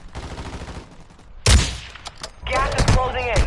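Video game gunfire crackles in loud bursts, with a heavy blast and rapid volleys of shots close by, while players talk over the action.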